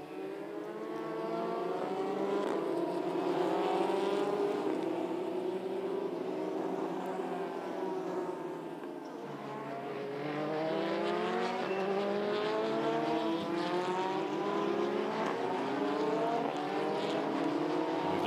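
Formula Renault Eurocup race cars at the Hungaroring weave to warm their tyres before the race start. Engines drone steadily at moderate distance, with pitch swells and sweeps as the cars accelerate and pass.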